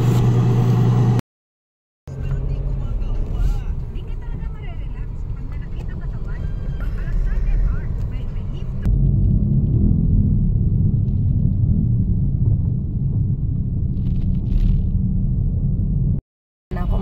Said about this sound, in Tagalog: Makikita nyo, napaka-traffic na motor.